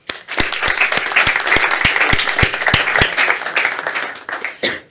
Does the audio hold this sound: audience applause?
yes